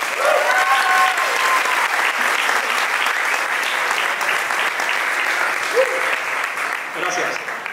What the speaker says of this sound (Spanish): recibamos con un fuertísimo aplauso a Jorge García